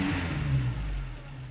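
A car engine idles and revs at a mechanic's workshop, a fairly steady low mid-range drone that briefly swells, then settles slightly quieter, with no talk over it.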